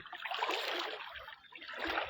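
Rushing water flows steadily at the Panchaleshwar temple site, where the rising stream makes a close, broad, continuous wash that surges and eases slightly.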